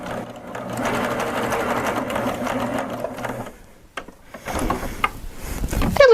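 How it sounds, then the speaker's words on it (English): A Baby Lock Applaud sewing machine stitches a fabric scrap with a steady, close mechanical whir for about three and a half seconds, then stops, followed by clicks and handling clatter. "I have a little scrap of fabric here, and I'm going to check my stitch length to see if I like it"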